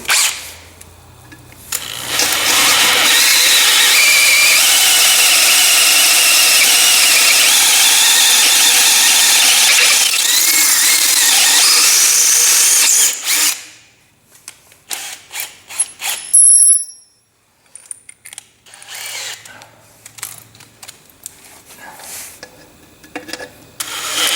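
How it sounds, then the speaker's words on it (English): A power drill grinds loudly and steadily through metal, boring a 7mm hole in a Massey Ferguson TEA20 tractor part for several seconds, then stops, followed by scattered clicks and handling noises. "Now I'm just going to go through with a 7mm drill."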